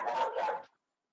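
A dog barks twice in quick succession at moderate volume, picked up through a virtual planning commission meeting's audio, then silence.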